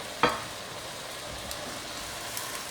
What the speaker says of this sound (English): You can hear how happy everything is. It's sizzling away.